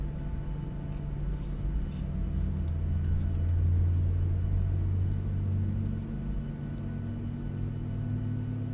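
Steady low engine rumble of a PMDG 737 airliner taxiing in Microsoft Flight Simulator 2024, a constant drone with a slowly rising hum, heard alone at moderate level.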